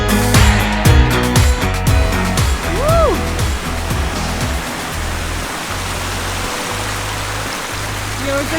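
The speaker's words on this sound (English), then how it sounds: "actually inside the waterfall." A Scottish waterfall rushes in a loud, steady roar, heard from right inside the falls; a short musical passage plays over the opening seconds before the water noise takes over alone.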